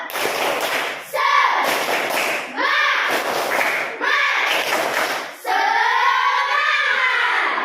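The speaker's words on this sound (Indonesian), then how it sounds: "Tepuk semangat." A classroom of children performs a rhythmic spirit clapping chant, bursts of loud clapping and chanting voices repeating in regular groups several times, close and lively.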